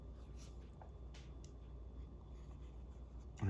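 Fountain pen nib scratching across paper while a portrait is drawn, soft continuous scritching strokes close up, fairly quiet, with a brief louder bump at the very end.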